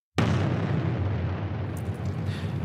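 Nuclear bomb explosion sound effect: a sudden loud blast that opens abruptly and then rolls on as a sustained, roaring rumble for over two seconds, heard alone.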